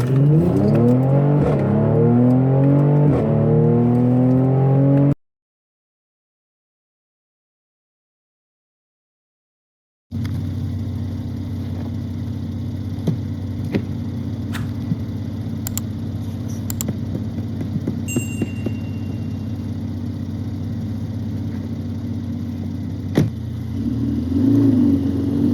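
A car creeps through snow in first gear at walking pace, its engine humming steadily at low revs with a rising whine early on, then a long even drone with occasional small clicks after a stretch of silence.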